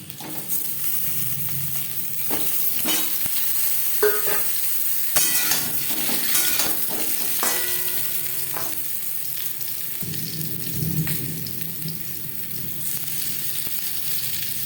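Peeled, boiled potatoes frying in hot cooking oil for a potato chicken curry, a continuous close sizzle with occasional clinks of a utensil against the pan and brief stirring scrapes, no voices.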